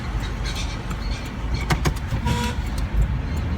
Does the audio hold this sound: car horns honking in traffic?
yes